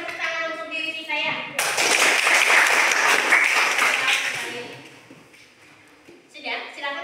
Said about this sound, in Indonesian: kita berikan tepuk tangan untuk diri kita ya